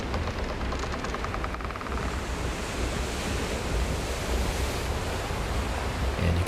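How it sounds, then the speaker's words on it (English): Steady ocean surf and wind wash past while sailing a boat across the sea in the video game The Isle, a continuous loud rushing roar with no talk. "I just like to sail around on the boats and look at the ocean."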